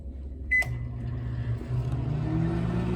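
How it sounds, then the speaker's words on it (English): Microwave oven starting up and running while heating marshmallows, a short beep followed by a steady low hum and whir that holds evenly, close and alone. "set the timer on your microwave for a minute"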